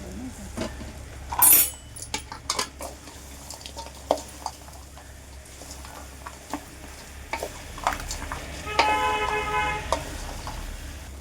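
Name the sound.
cauliflower being stirred in a pan with tomato pulp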